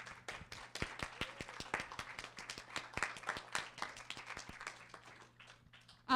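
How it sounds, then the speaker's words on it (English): Teachers attending a nanoscience summer institute's final presentations receive a round of applause: scattered, distinct hand claps of modest size that stay fairly steady, then thin out toward the end. "can you just stand up for a second and get a round of applause?"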